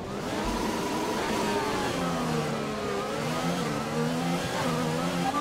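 A Formula 1 car engine in F1 2020 revs up through the gears, its whining pitch climbing and dropping in repeated steps, loud and continuous with no talking.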